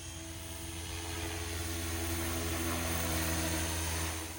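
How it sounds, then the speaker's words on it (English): A STEAM AK420 RC helicopter running on a 4S battery hovers and flies, its rotor hum and motor whine holding a steady, loud, tonal drone throughout with no talk. "This is a fun little helicopter on 4S."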